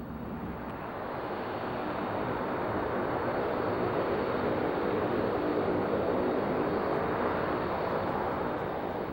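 Lockheed P-3 Orion turboprop engines give a broad, steady roar that swells slightly and holds for several seconds, loud and continuous with no voices.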